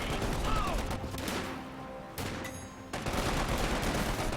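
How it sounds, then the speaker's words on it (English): .50 cal machine gun firing in Company of Heroes 2 amid a busy battle, dense bursts of rapid gunfire with crashes and mechanical clatter, loud and continuous. "Now even the 50 cal machine gun is going to try to open up on the center"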